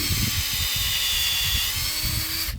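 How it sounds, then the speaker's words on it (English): A power drill bores 1.5 inches into a tree trunk, a steady high whine with pulsing low-end chatter running continuously and close, then cutting off at the end. "We take the drill into the tree"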